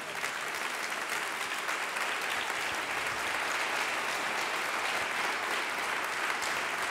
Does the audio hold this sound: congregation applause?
yes